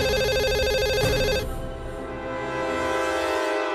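A loud electronic telephone ringtone trills steadily for over a second, then cuts off, leaving a sustained hum and low background noise.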